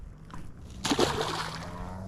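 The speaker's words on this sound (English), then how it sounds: "Let's get him back in the water." A small bass is released from a fishing boat back into the water, giving a brief splash and slosh close by after a quieter stretch, with water movement continuing afterward.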